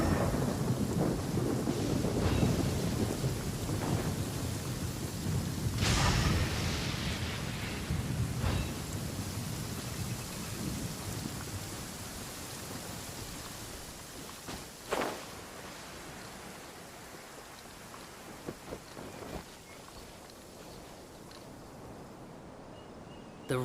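A video game thunderstorm with steady heavy rain and several loud thunder cracks and rolling rumbles. The rain hiss is constant and the storm is heard alone.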